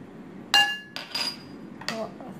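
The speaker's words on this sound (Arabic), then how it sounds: "الآن سوف أخلط مكونات التتبيلة" Ingredients for a grilled rib marinade, among them garlic and salt, being mixed in a bowl: a sharp metallic clink followed by a few lighter clatters of utensil against the bowl, close and isolated.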